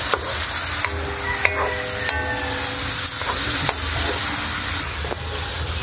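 Chicken liver and pancit canton sizzle steadily in a pan while being stirred, with clinking utensil strokes and scraping cutting through the continuous frying hiss, close and fairly loud with no talking.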